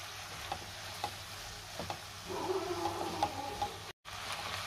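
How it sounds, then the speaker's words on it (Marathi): Shredded cabbage being stirred with chili and spice powders in a pan, giving a faint low sizzle with a few soft scrapes and taps of the spoon, close by, briefly cut to silence near the end. "आता आपण हे सगळं व्यवस्थित मिक्स करून घेऊया"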